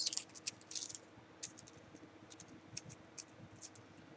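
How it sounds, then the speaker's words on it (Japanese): Cigarette rolling paper is handled in dry, brittle tobacco preparation, giving faint crisp crinkles and ticking scratches in irregular bursts against a quiet background. "とりあえず適当な巻き紙を使います。"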